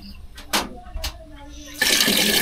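Water running in a campsite restroom at a motocamping site in Limay, Bataan, a loud steady gush that starts after a couple of quiet clicks and knocks and continues to the end.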